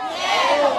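Crowd at a celebration event cheering and applauding, a dense, steady roar of many voices close by.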